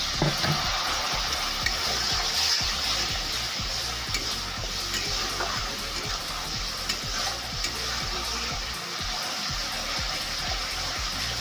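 Vegetarian papaya curry simmering in a pan with water just added, giving a steady, close sizzling and bubbling with faint stirring scrapes throughout, no voices.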